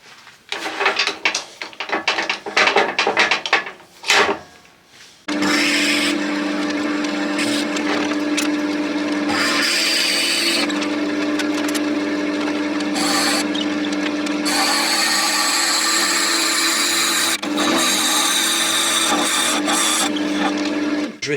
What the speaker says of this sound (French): je vais percer à 60 ici. Donc ça, je prends le mandrin et j'y vais.